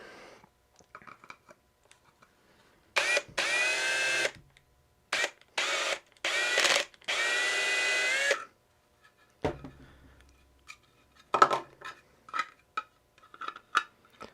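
A drill bit enlarging a hole up to 1/2 inch in a portable 12V power supply build, heard in several close whining bursts with pauses between them, followed by clinks and handling of tools.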